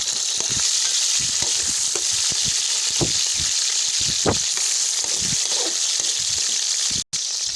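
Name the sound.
chicken frying and browning in a pot for jungli pulao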